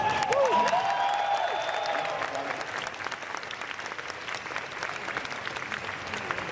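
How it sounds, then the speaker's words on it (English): A large audience at a Halo convention panel applauding steadily, dense clapping that holds throughout with a few faint cheers mixed in. "Give yourselves a round of applause."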